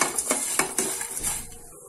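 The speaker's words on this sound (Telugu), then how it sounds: "ఈ మ్యాగీ దీంట్లో వేసుకొని బాగా గోల్డెన్ కలర్ వచ్చే వరకు బాగా ఫ్రై చేసుకోవాలి." Maggi noodles being stirred and fried in a pan until golden, giving close metallic scraping and clinking of a spoon against the pan in quick uneven strokes that fade toward the end, with no talking.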